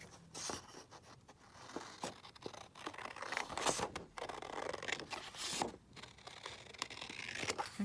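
Scissors cut down a journal page in a Saville Row junk journal project, making quiet, close snips and paper rustles in short irregular strokes.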